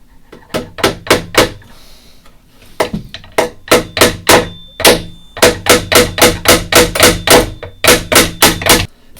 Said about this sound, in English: Now I'm going to put in some nails into the two new joins.